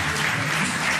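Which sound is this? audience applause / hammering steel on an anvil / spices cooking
audience applause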